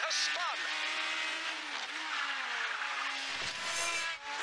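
Race car spinning out on a track during a 1976-era Formula One race, engines and tire noise blaring loud and continuous, with voices talking over it.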